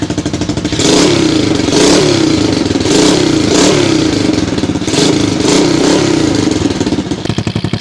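A dirt bike engine runs loud and close after a carburetor cleaning, holding a steady rough drone with repeated throttle swells and revs, alone without talk.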